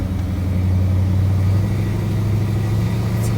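Steady low engine rumble of a 1968 Ford Ranger pickup truck cruising along and taking a corner, a constant droning hum with no voices over it.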